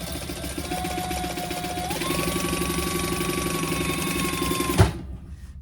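A sewing machine bastes the sides of a crossbody bag with a steady, close, rapid mechanical whir that runs without pause. It stops abruptly with a clunk near the end.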